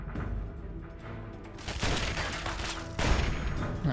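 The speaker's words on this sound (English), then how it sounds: "There's also a turret up there. A very tanky turret." Automated turret in a Fallout wasteland letting off a sustained volley of rapid gunfire, dense and loud throughout, with a heavier burst near the end and no talking.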